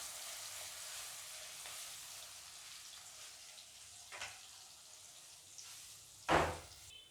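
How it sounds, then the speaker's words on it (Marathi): Onions and chopped green chillies fry in a pan with a faint steady sizzle and soft crackle. A louder stir or scrape of the pan comes near the end. "आता हे छान लालसर येईपर्यंत शिजवून घ्यायचं आहे कांदा आपल्याला"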